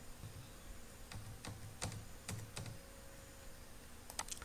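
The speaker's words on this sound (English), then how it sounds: "So I need to type the code here." Keys tap on a computer keyboard in short, quiet bursts of clicks with pauses between, close by in a hushed room.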